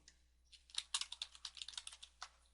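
Quick keystrokes on a computer keyboard as a search query is typed, a brief burst of close, crisp clicks in an irregular rhythm over a quiet room.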